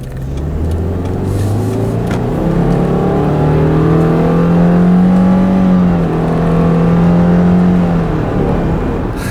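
A 2016 Subaru Impreza accelerating from inside the cabin, its engine tone climbing steadily and smoothly for several seconds, loud and close with a continuous whirring drone and no talking.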